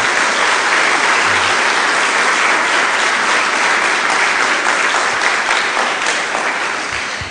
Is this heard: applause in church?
yes